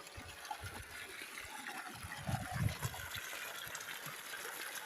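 Water gushing steadily from a pump pipe whose flow is set by a VFD inverter, a continuous rushing wash with a few louder surges midway, heard at moderate distance without speech.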